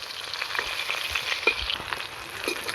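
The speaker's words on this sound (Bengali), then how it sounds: "দিয়ে একটু ভালো করে ভেজে নেব।" Pieces of snakehead fish fry in hot oil with a continuous crackling sizzle, fairly quiet and close, punctuated by small pops and scrapes of a turning utensil.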